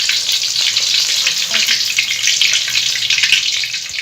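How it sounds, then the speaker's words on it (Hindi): Kebabs frying in ghee give off a loud, steady, hissing sizzle with crackling spatter throughout, heard up close with no talk. "इस तरह से आपने तमाम कबाब फ्राई करके रख लेने हैं।"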